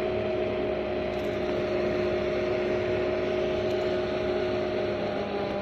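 Small cooling fan inside a homemade DC power supply with adjustable current and voltage, a steady whirring hum with constant tonal lines, running continuously and fairly loud with no speech.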